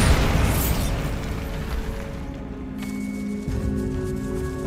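A Bombarda blasting spell detonates in Hogwarts Legacy inside a decayed catacomb, a loud booming burst with a rumbling tail that fades into a low sustained hum, heard alone without speech.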